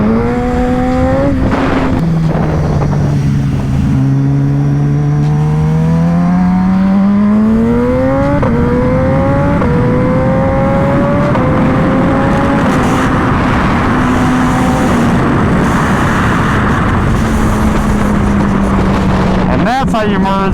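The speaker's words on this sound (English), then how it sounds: "The first ride on my BMW S1000 with the new fairings." A BMW S1000RR sport motorcycle with new fairings rides out, its loud engine revving and climbing through gears in rising and falling whines, close and continuous, with a voice talking over it at times.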